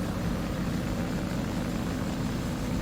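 Racing vehicle boosters throttling up in the game Cornucopias, a steady, dense engine roar with a whirring, propeller-like buzz holding at constant volume.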